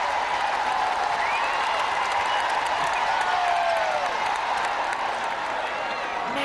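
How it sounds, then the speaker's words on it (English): Large stadium crowd roars and cheers steadily throughout a netball World Cup semi-final between England and New Zealand, a dense continuous wash of voices with scattered whoops and clapping. "Massive crowd, tremendous amount of noise here at the park."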